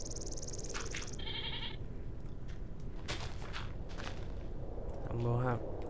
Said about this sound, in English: goat, get away!